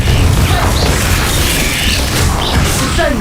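An Incendio fire spell is cast in Hogwarts Legacy, a dense, loud roaring burst of flame and crackle that stays heavy and continuous throughout, with a voice faintly mixed in.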